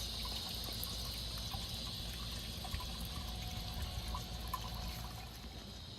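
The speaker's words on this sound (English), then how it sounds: "that water just drips down in there and gets that core, gets those little pebbles" Water trickles and drips onto small pebbles around the core of a strawberry planter, a faint, steady, quiet wash of liquid with tiny irregular drips throughout.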